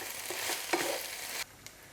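Minced meat with onion and green and yellow capsicum sizzles and fries in a pan, a soft hiss with brief stirring scrapes that drops off sharply partway through.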